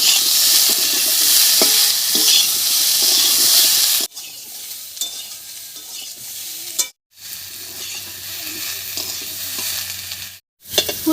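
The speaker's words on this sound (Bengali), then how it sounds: "ফুলকপি আর আলু একটু ভাজা ভাজা করে নিয়েছি" Cauliflower and potato pieces fry with turmeric and tomato in a pan for a Bengali boreli fish curry, a steady loud sizzle broken by stirring scrapes, then quieter frying after a pause.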